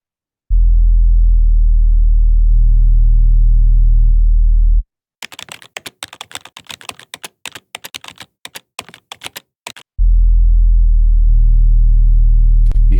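Deep synth bass in an 808 style with FM switched off, holding smooth sustained low tones in two sections separated by a burst of rapid computer keyboard typing in the middle.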